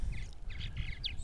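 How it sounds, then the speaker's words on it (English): Several bird calls sound outdoors on a cool, clearing morning after overnight rain, a string of short, fairly clear calls repeating over steady low background rumble. "birds are back."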